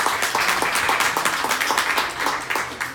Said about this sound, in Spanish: Dale un fuerte aplauso